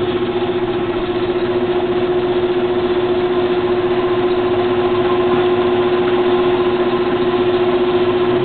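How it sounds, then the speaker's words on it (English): A Clausing Colchester Master 13x36 geared-head lathe runs on power feed, giving a steady, close mechanical hum with a constant drone throughout and no talking. "I'm turning on the power feed."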